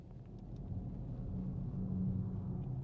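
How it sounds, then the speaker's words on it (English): Simulated V8 engine note from the Fratsonic chambered exhaust of a 2024 Dodge Charger Daytona Scat Pack EV, driving on snowy roads in Minnesota; a steady, low droning rumble that swells slightly and holds close and continuous. "With the Fratsonic chambered exhaust system, it still sounds like it has a V8 gas engine."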